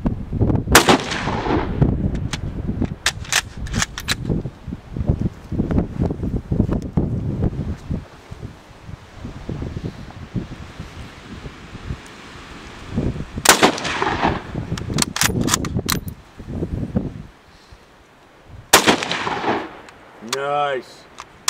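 Mosin Nagant rifle shots ring out in Jawbone Canyon, several sharp loud reports spaced across the stretch, around 1, 13.5 and 19 seconds, with wind noise and people talking between them.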